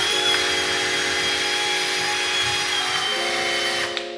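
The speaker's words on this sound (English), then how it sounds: "I'm actually going to take some all-purpose cleaner and a drill brush to it" A drill brush scrubs a Porsche 996 suspension with all-purpose cleaner, the drill motor whining steadily up close with a shift in pitch near the end as bristles rub the part.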